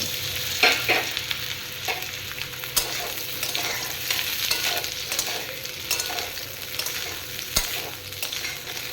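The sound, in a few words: green banana and stems frying in oil, stirred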